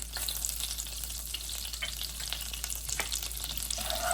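Whole spices (cloves, cinnamon, star anise and cumin) sizzle and crackle steadily in hot oil for a paneer mutter masala, a close, continuous frying hiss with small pops throughout.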